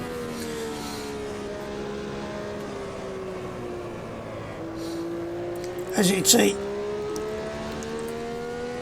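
A race car engine in the Automobilista 2 sim drones through the revs with rising and falling harmonic tones, a brief sharper burst near the end, while someone talks over it.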